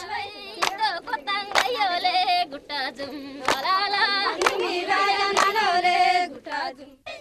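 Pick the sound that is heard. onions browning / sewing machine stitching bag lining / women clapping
women clapping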